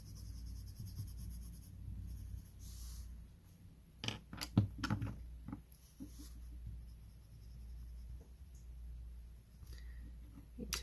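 Quiet scratchy strokes of a colored pencil shading back and forth on paper, with a brief louder burst of rubbing midway, otherwise soft and steady.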